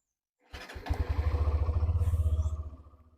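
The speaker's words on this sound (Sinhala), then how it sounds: "බයික් ස්ටාර්ට් කරගත්තා." A Hero Xtreme 125R motorcycle engine catches after a brief crank, then settles into a steady, close, pulsing idle with rapid regular thumps that fade slightly near the end.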